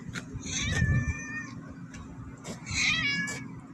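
A cat meows twice, drawn-out, whiny cries close by, separated by a short pause with faint ticking in between.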